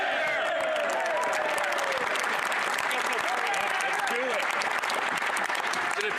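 Sustained applause fills Canada's House of Commons during Question Period, a thick, unbroken wash of many hands clapping at steady volume while a voice speaks over it.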